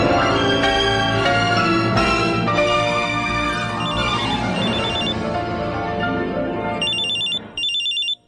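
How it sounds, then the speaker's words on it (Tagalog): A cellphone rings with an incoming call, a loud, close melodic ringtone playing continuously, ending with repeated bright electronic beeps before it cuts off. "May tumatawag sa cellphone ko."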